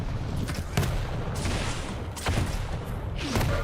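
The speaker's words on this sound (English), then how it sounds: "Nice rockets by Davjs." Rocket launcher fire in a Quake deathmatch, repeated loud blasts and explosions over dense, constant game noise, with several sharp bursts spaced a second or so apart.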